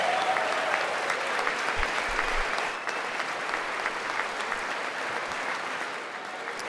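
Members of Congress applaud in the chamber during a State of the Union address, a broad, steady wash of many hands clapping at a distance that fades a little toward the end, with no talking over it.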